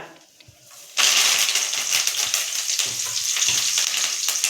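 Chicken pakoda frying in hot oil as curry leaves go in, setting off a sudden loud, crackling sizzle that continues steadily and close by.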